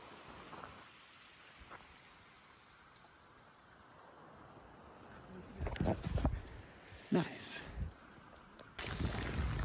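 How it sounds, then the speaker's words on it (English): Rain falls on a trail in the Rawah Wilderness, a faint, steady patter under the quiet outdoor background, broken by a few louder bursts of rustling or movement close by. "It's getting a little wet out here. It's raining"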